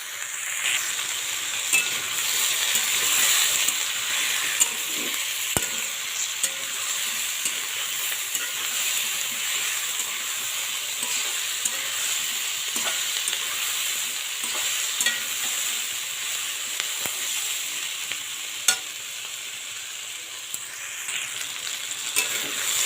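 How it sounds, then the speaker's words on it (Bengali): Onion, garlic and ginger frying in a pan for a papaya curry sizzle and hiss steadily, while a utensil stirs them with intermittent scrapes and knocks, and no one speaks. "সুন্দর করে ভেজে নিয়েছি আমি পেঁয়াজগুলোও ভেজে গেছে রসুনটাও আদাটাও ভাজা হয়ে গেছে"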